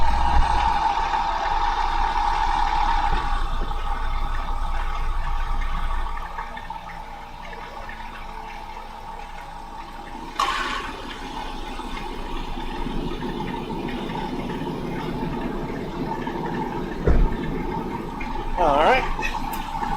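A truck engine held at 2000 RPM with the AC compressor engaged, giving a steady, close mechanical drone with a few brief surges and clunks, and talking over it at times.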